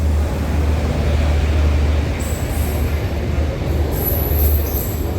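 A train rumbles past nearby in Jaffna with a steady low roar and wheel noise, and faint high squeals rise toward the end.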